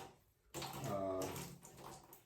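Water splashes onto a dog's fur during a home bath, a sudden wet gush that starts after a quiet half-second and then tapers into dripping and trickling, close by.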